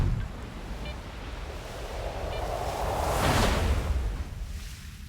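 A wind anomaly in the post-apocalyptic shooter STALKER 2, a steady roaring gust that builds to a strong surging swell midway, then eases off, with faint metallic tones drifting through.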